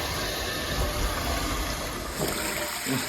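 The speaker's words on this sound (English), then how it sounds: "Just run the water for a bit" Tap water runs steadily during a plumbing repair under a sink, a continuous loud rushing hiss and splash close by, with no talking over it.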